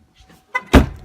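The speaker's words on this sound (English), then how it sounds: "Gotta close the door." A door is shut in a funeral home: a light scrape of movement, then one solid, close, loud thud as it closes.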